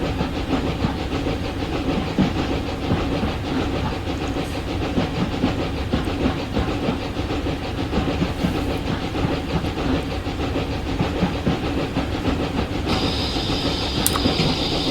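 A narrow gauge steam train runs on the Clear Creek route in the game Train Simulator Classic, with a steady rumbling chug and rail clatter throughout and a brief high whistle-like tone near the end.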